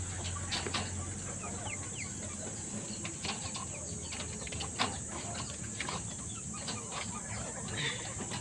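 A small mother hen clucks in a backyard flock, with soft bird calls and brief wing flaps over a steady farmyard hiss.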